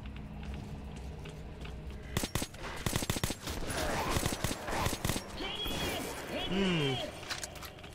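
Rapid bursts of gunfire from the video game Metro 2033 rattle in close, irregular clusters over a constant background noise, mixed with other in-game crashes and a creature-like cry.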